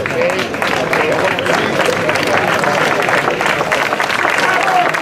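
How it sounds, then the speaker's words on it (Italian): A crowd applauds at the awards ceremony of a hill climb race in Tiriolo, Italy, with dense, steady clapping and some crowd murmur running throughout. "Applauso a tutte e due."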